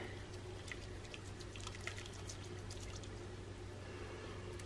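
Cleaning liquid is poured into a toilet bowl, a soft steady trickle and splash over a constant low background hum, fairly faint with no talk.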